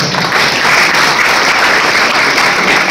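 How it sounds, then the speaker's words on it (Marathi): Loud, steady applause from an audience at an inter-college speech competition, sustained throughout without a break. "मला वाटतं जोरदार टाळ्या झाल्या पाहिजे."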